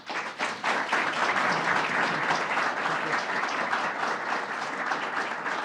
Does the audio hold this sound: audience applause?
yes